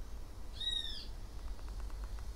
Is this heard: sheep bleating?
no